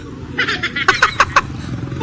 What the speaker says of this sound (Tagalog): Manok pala yun.